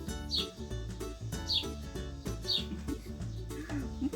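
Short bird chirps repeat roughly once a second over a busy, rhythmic musical background.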